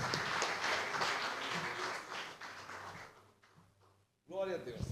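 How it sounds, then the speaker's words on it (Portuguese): A church congregation claps in praise, a dense burst of hands that thins and fades out, followed by a voice starting to speak at the end. "Mais palmas ao Senhor por esse mover no nosso ministério."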